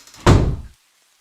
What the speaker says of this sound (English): the sound of the door being wrenched open and slammed shut again